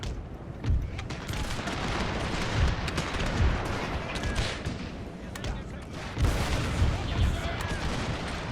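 Musket volleys in a Thirty Years' War battle in the video game Total War, dense rolling gunfire and booms crackling continuously, with someone talking over it.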